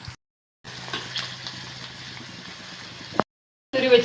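Crushed green chillies and gooseberry frying in hot oil, a steady close sizzle that cuts off abruptly twice, with a short stir-scrape before one break.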